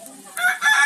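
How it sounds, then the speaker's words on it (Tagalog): A brooding hen on a rural provincial farm clucks in a brief, close burst of rising calls. "Naandun yung nalimlim na manok, oh."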